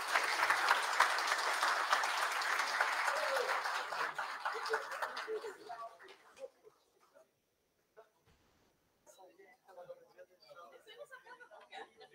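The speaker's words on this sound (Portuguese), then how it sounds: "a soma de todas as salvas de palmas que tivemos aqui até agora" Audience at a formal civic ceremony honoring a new honorary citizen of Alegrete applauds steadily for about five seconds, then the clapping fades into near silence with a few scattered claps, faint murmurs and light chatter.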